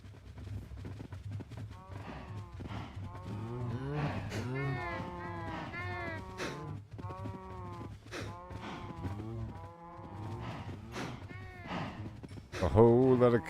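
Cows moo over and over in the Minecraft video game, a herd giving long, drawn-out calls at moderate loudness, while a person talks along with them.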